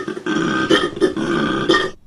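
A koala bellow: deep, rasping, snore-like grunts that rise and fall in a few throaty surges over about two seconds, heard up close with nothing else around them.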